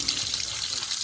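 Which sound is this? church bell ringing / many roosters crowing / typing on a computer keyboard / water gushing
water gushing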